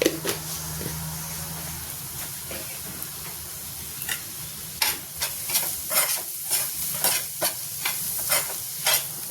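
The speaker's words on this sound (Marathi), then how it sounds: "मी सारखं परतते कारण थोडंसंच करायचं आहे" Dried prawn masala is stirred and fried in a pan with Kashmiri red chilli powder, giving a continuous soft sizzle with repeated sharp scrapes and taps of a spoon against the pan, quickening in the second half.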